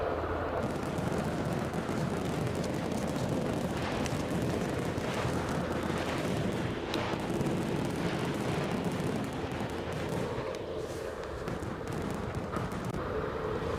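Fireworks explode over Aberdeen in a dense, continuous barrage of booms and crackles, loud and unbroken throughout, with no talk.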